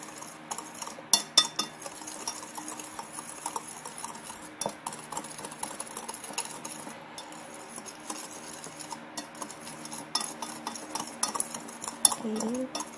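Spoon stirring eggless fudge chocolate cake batter in a bowl, with soft scraping and light clinks against the dish, continuous and close, with occasional faint background noise.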